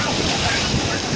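Strong ocean waves surge onto the seashore at high tide, a loud continuous roar of surf mixed with wind buffeting close to the microphone.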